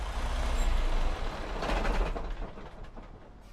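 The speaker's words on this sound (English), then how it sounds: "Put the brakes on, shut her down." Freightliner truck in American Truck Simulator gives a sharp hiss of air brakes as the engine rumble winds down and shuts off, close and loud.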